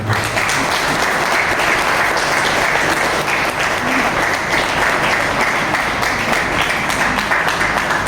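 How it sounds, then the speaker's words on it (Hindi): A large crowd at a chef's book launch claps steadily and loudly for several seconds, a dense, continuous wash of applause with no voices standing out. "मैं चाहता हूँ कि एक बार उनके लिए आप सभी जोरदार ताली"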